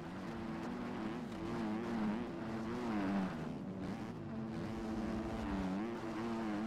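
A 2023 Yamaha 250F four-stroke dirt bike engine revs in second gear on a track, a buzzing, wavering drone that rises and falls with throttle, heard from the rider's position without talk.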